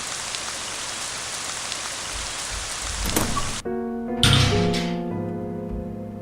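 Steady rain patters across the first half in the horror game Ib, then a few soft thumps and a sustained musical chime tone rise over quieter background.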